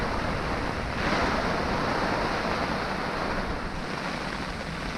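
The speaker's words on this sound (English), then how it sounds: "I've sat through 3 hours of this constant wind and rain" Constant wind and rain outside on a windswept day: a steady, loud broadband roar of gusting wind and rain noise buffeting the microphone, with no pause for the whole five seconds.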